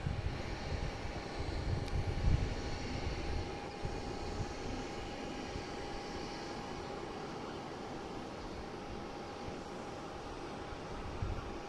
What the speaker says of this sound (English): We have a Delta coming in from New Orleans, Louis Armstrong International Airport